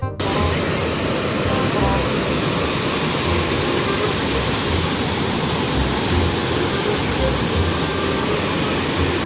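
Floodwater in Tirunelveli pouring into a large well, a dense, continuous roaring rush with no breaks, loud and close.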